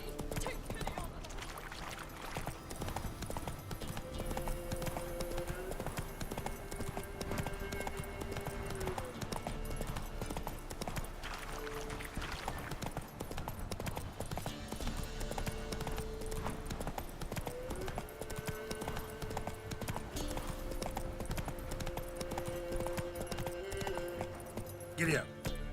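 Horse hooves clip-clop steadily during riding in The Witcher 3 video game, a continuous rhythmic trot that sits under game music and voices talking throughout.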